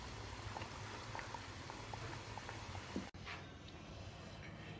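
Fried biscuits sizzle in hot oil on a lowered flame as they are lifted out, a steady close bubbling hiss with faint clinks, then a brief cut and quieter frying.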